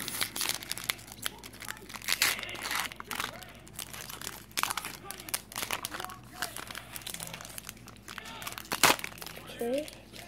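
A Pokémon Breakthrough booster pack is torn open and its foil wrapper crinkled by hand, close-up rustling and tearing in uneven bursts while someone talks.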